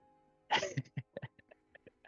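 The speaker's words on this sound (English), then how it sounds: "watch myself sneeze on camera" A single sharp sneeze up close, followed by a string of small quick breaths or sniffs trailing off.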